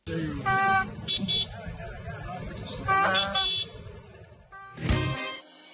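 Car horns honk in road traffic as drivers signal at one another, several short loud blasts spaced through the clip over engine and street noise, with talk heard underneath.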